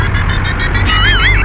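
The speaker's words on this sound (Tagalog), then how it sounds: "Napaka-traffic, sobrang traffic guys." Heavy road traffic on Doña Soledad: a loud, dense rumble of engines close by, with a wavering siren-like tone rising over it near the end.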